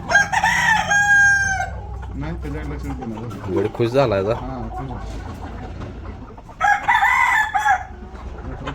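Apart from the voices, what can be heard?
rooster crowing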